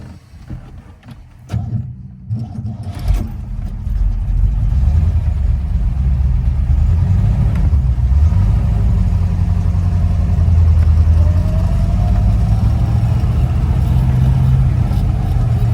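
A 1962 Corvette Fuelie convertible, a numbers-matching fuel-injected car, idles and then pulls away, its engine building to a steady, loud, close rumble that holds for the rest of the clip.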